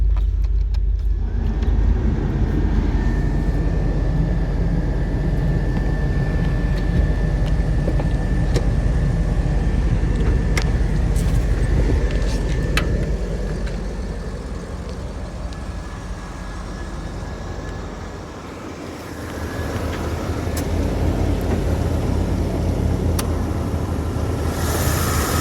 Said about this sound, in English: You can hear the AC kind of circulating there